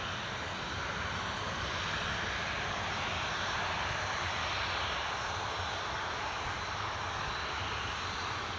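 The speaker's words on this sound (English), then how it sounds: "next movement we have is Ryanair. Ryanair's 737-800." A Ryanair Boeing 737-800 at Newcastle Airport produces a steady, full-bodied engine roar that stays constant and fairly distant, with no voices over it.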